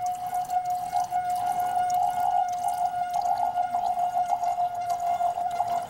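Water squirted into a bottle on a bottle xylophone while it keeps sounding, a steady ringing tone holding under splashing and trickling water throughout.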